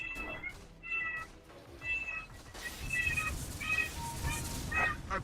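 Several cat meows, a few strung across the clip, rise over game sound effects and background noise nearby while people chat in Filipino during a multiplayer game session.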